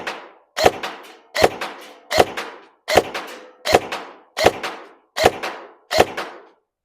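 Nuprol Vanguard M4 airsoft rifle firing a grouping of nine single shots, each a sharp close crack with a short decaying tail, spaced evenly about every three-quarters of a second with no talking.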